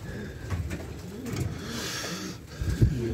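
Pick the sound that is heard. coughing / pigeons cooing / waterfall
pigeons cooing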